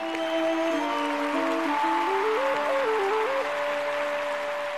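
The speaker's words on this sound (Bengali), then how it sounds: "তাদের জন্য আরো বড় হাততালি।" An audience claps steadily at a comedy TV show taping, a dense and even wash of applause lasting the whole stretch while a bright music cue plays over it.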